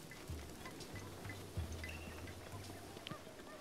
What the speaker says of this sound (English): Seems the chickens have gotten out of the coop again.